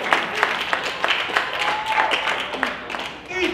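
An audience at a rap battle event claps, scattered and uneven, while voices talk and call out over it.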